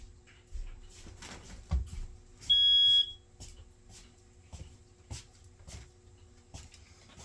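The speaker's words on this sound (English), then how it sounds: "And my cats hit the smoke detector somehow." A smoke detector, set off by cats, gives a single short, piercing electronic beep amid quiet household knocks and faint rustling.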